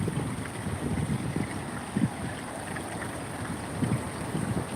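A flooded river pours over a bridge during heavy rains, a steady low rushing roar of water with wind buffeting the microphone and a few heavier surges.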